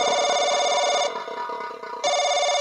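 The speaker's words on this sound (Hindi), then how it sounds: "अरे संजू अरे माँ किसका फोन है?" An indoor telephone rings loud and steady in a Hindi family drama scene, the electronic bell holding for about a second, dipping briefly, then resuming with no talk over it.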